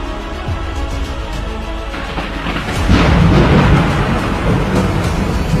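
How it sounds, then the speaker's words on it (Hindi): A loud thunderclap rolls in as a sudden downpour of heavy rain resumes, the rumble swelling midway and then sustaining under the steady roar of falling rain. "आसमान में तेज बिजली कड़की और बारिश जो थोड़ी थमी थी एकाएक फिर झमाझम बरसने लगी।"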